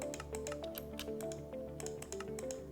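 Rapid clicking of a computer keyboard as a chat command is typed in Minecraft Bedrock, a brisk irregular run of close keystrokes over a soft background hum.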